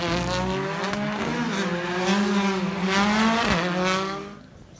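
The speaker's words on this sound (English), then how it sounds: "as you can see the skills they have spinning the all-wheel drive cars under these tight circumstances were great to see" All-wheel-drive rally cars spin and skid at a Budapest motorsport show, their engines droning loud and close with rising revs and tyre noise sustained throughout, fading toward the end.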